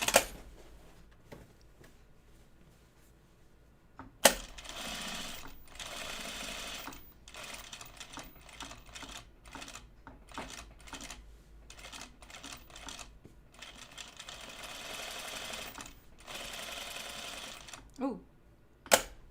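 An industrial sewing machine top-stitches a pair of jeans in a long run of fast, uneven stitching, close but fairly soft, with a few sharp clicks near the start and end.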